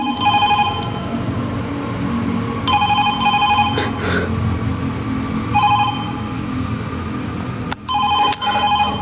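Telephone in a haunted clinic ringing in repeated electronic bursts, four rings separated by short pauses, loud and close over a low background rumble.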